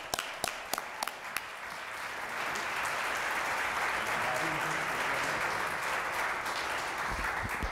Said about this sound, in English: Let's give Dave a warm, round welcome